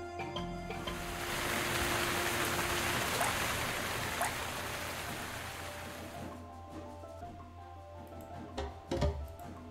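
In the video game Quench, a steady hiss of rain swells and holds for several seconds, then thins out, leaving a few scattered clicks and taps near the end.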